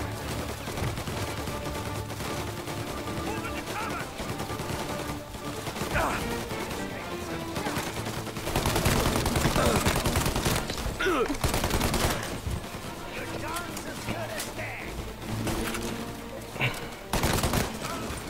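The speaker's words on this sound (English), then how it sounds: "Bring that Tommy gun, boy." Bursts of Tommy gun fire and other gunfire rattle through a firefight in Mafia Definitive Edition, rapid automatic volleys and impacts repeating loudly over a sustained stretch with brief pauses between salvos.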